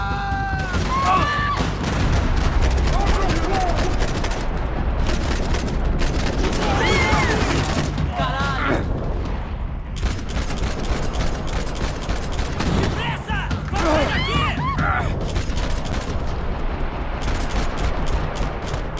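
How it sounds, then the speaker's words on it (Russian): Uzi submachine gun fire in the video game Max Payne 3, with repeated loud, rapid bursts of shots and booming impacts running throughout, while someone talks over the shooting. "Я ему хуярю прямой наводкой в голову из УЗИ"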